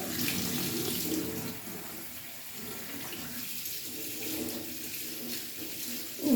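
Running tap water pours steadily with a broad, even splashing as millet is rinsed in a strainer, no voices.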